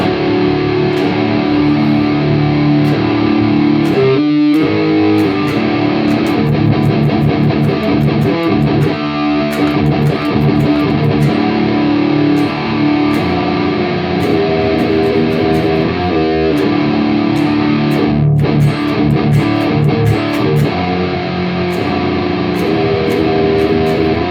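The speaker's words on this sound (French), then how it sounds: "moi je veux de la grosse disto, on s'en fout. Métal." Electric guitar through a Headrush Prime multi-effects unit on a 5150-style metal preset with heavy distortion, played as dense, sustained chugging riffs with a few brief pauses, loud and continuous with no talking.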